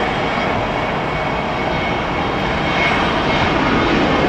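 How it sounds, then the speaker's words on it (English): An airliner on approach to land on the north runway at LAX, Los Angeles, makes a loud, steady, broadband engine roar that holds at full strength from start to finish with no other sounds. "One coming in for landing."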